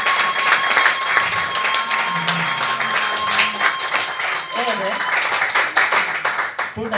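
A church congregation applauds and cheers during a service, bursts of clapping mixed with shouts and voices, with a preacher speaking over the crowd.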